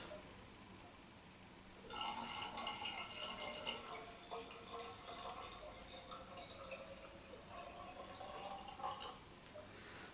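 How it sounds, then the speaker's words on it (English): Cooled boiled water is poured to top up a demijohn of elderflower wine. After a quiet start, a trickling, splashing flow runs on steadily, with bright bubbling that rises toward the end. "what we're going to do is add a little bit of cooled boiled water"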